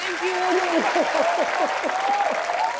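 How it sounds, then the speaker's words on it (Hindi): Studio audience applause on a Hindi TV comedy show, a steady wash of clapping and cheering under a singing or sustained voice as a guest singer is welcomed. "आप सबकी जोरदार तालियों के बीच"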